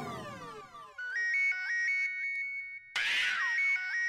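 A phone rings with an electronic ringtone in a sitcom office scene: falling synthetic sweeps give way to a loud, bright repeating beeped melody, alone without talk.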